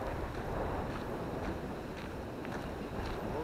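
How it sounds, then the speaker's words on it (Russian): Wind blows outdoors at dusk around an abandoned Antalya hotel, a steady rushing buffet on the microphone with faint soft knocks scattered through it. It is moderately quiet and continuous, with no talking. "Ветерок дует такой. Чересчур свежий."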